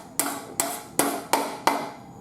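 Five sharp hammer blows drive nails into a flat wooden board on a stable surface. They fall in a steady, evenly spaced rhythm, close and loud, each with a short ringing decay and no talking.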